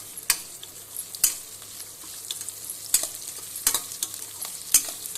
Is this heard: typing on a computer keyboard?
no